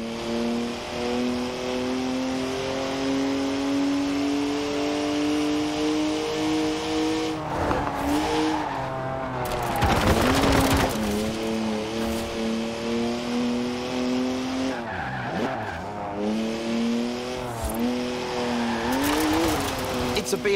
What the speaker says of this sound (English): Please leave me some tread for the drive home, Stiggy.